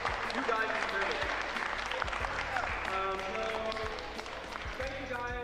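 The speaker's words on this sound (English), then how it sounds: "give yourselves a round of applause for your contribution as the community" A fighting-game community crowd at a talk show event breaks into sustained applause, steady and fairly close, with some voices mixed in.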